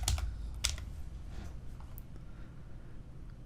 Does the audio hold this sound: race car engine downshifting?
no